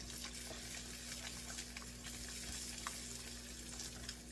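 Eggs jostled in a hot frying pan give a steady, close sizzle with scattered soft scraping and stirring ticks throughout, over a low constant hum and no talk.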